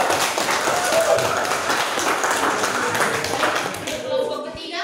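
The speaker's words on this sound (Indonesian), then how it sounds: "Berikan tepuk tangan untuk" Classroom applause for a presenting group, with dense, fairly loud clapping that continues throughout and tapers near the end.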